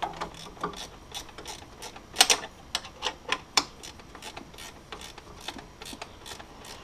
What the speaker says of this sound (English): I'm going to take our ratcheting wrench here.